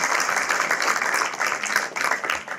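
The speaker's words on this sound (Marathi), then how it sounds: "पेठे सरांचं जोरदार टाळ्या आपण स्वागत करूया" Dense, steady applause from an audience welcoming Pethe sir at a motivational talk for jewellers, filling the whole moment with close, continuous clapping.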